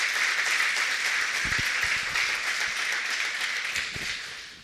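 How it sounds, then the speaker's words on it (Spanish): Audience applause at a Sunday church gathering with a pastor in Villa Mercedes, San Luis, Argentina: a dense, steady wash of clapping from a crowd that stays loud throughout, then thins slightly near the end. "un aplauso, como sea."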